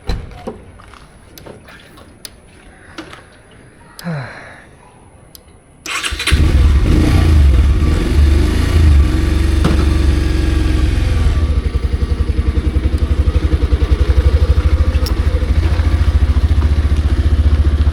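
Bajaj Pulsar 150 motorcycle riding at night: after a few seconds of quieter clatter, the engine note and rushing wind jump to a loud, steady drone that continues throughout.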